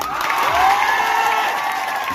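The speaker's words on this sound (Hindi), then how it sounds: "इसलिए अपने लिए जोरदार ताली बजाओ।" A crowd at an outdoor political rally applauds, a steady wash of clapping with some cheering, moderately loud and continuous for the whole stretch.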